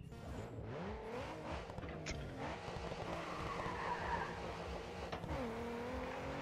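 A race car in the racing game Grid 2 drifts through corners, with tires squealing in long skids over a steady, revving engine drone that rises and falls with the throttle.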